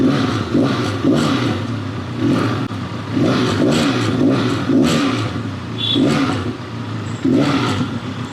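A Benelli 502C motorcycle engine idles and revs repeatedly, loud and close, with several rising blips through a steady throbbing idle.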